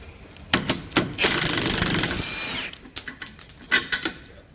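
A power tool, likely an impact wrench, works the lower shock bolt on a PT Cruiser in a few close bursts: short hits, a sustained whirring run of about a second, then more brief rattling impacts and clanks.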